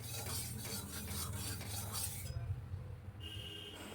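A spoon stirs a thick sesame and poppy seed fritter batter in a bowl, making soft, quiet rasping swirls with faint clinks, fading to near stillness partway through.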